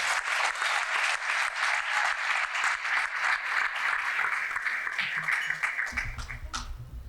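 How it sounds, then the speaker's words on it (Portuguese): A strong round of audience applause at the final stage of the Petrochamp competition, dense clapping holding steady for several seconds before thinning out near the end as a low rumble enters. "Mais uma forte salva de palmas"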